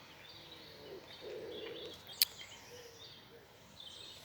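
Faint birdsong drifts through a local park, a few soft chirps and calls with one sharp tweet over quiet open-air background, fairly distant.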